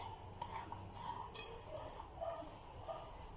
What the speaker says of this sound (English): Just got to keep on mixing it until all the color is evenly distributed.